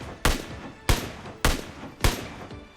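Four loud, sharp gunshots from a PUBG Mobile gun fitted with grip attachments, fired singly at an even pace about half a second apart, each with a short decaying tail and no talking.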